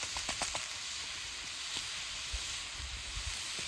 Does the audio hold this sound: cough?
no